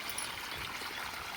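Irrigation water flows through a mango orchard, a soft, steady trickling and gurgling that runs continuously at low volume with no talk.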